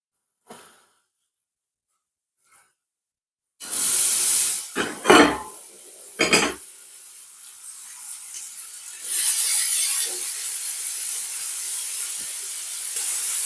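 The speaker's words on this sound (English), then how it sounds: "I'm going to put some oil in the pot and I'm just going to quickly saute off the onions and the peppers" Onions and peppers sautéing in oil in a pot give a steady close hiss after a quiet start, broken by a few sharp bursts as the vegetables hit the hot oil and get moved around.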